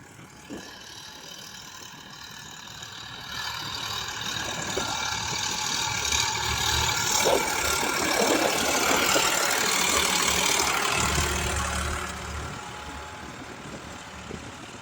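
An Eicher 551 tractor pulls a cultivator through a potato field, its engine a steady mid-low drone that swells louder midway and eases off toward the end, with light rattling over the top.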